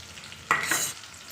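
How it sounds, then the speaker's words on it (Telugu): Brinjals and onions hit a hot pan and are stirred, giving a sudden bright sizzle and scrape that swells for about half a second, then settles into a steady low frying hiss. "బాండీలో వేసుకొని చక్కగా ఈ వంకాయల్ని ఈ విధంగా వేసుకోవాలండి."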